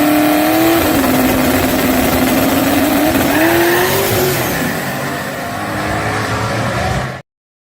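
A small-tire drag racing car makes a third-round pass, its engine roaring loud and sustained with rising pitch through the gears before the sound cuts off abruptly.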